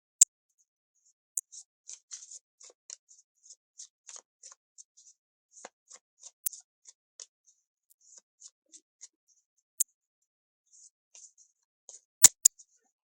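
Santa Muerte Lenormand cards are shuffled in the hands, a quiet, crisp series of light card snaps and flicks ticking irregularly close by, with a few sharper clicks, alone and without talk.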